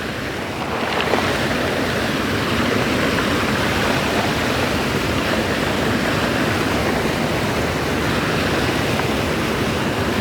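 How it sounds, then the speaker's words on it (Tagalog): A flooded, swollen river rushes continuously, a loud broad roar of churning water with steady wind buffeting and no breaks. "Laki ng baha."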